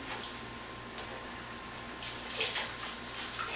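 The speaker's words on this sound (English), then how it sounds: "So I go ahead and put them right into the sink." Remy hair extensions swish and slosh in a soapy, water-filled sink, a soft, close watery churning that stays steady with a few louder splashes.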